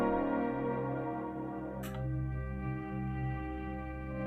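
Lobby player-join cue in the video game No More Room in Hell 2: a short, bright swish cuts briefly over continuous ambient music, blending almost into the soundtrack.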